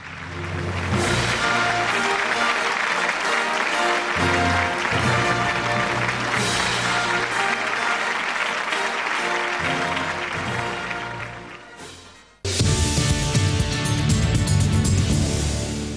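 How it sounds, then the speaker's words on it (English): Dense, sustained applause at a business awards ceremony, thick and continuous with a musical bed underneath, dipping briefly before swelling back loudly. "Big round of applause for Neha P."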